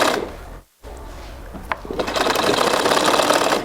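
A sewing machine stitches around a pocket on a pair of native-style trousers, starting after a short pause and then running as a loud, fast, continuous mechanical whirr up close.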